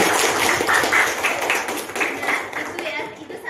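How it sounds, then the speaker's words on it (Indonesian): Classroom applause rings out at close range as a group of students claps together in a brisk, uneven patter, with voices audible amid the clapping. "Tepuk tangan buat temannya."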